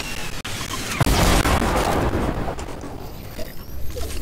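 Rockets explode in a video game firefight. A sharp boom hits early, followed by a heavy, rumbling blast and a churning roar of debris that tails off into scattered crackles.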